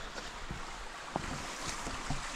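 Mountain stream water flowing steadily on the Gawarawila plains during a hike and camping trip, a continuous broad rushing wash with faint wind noise and a few small knocks.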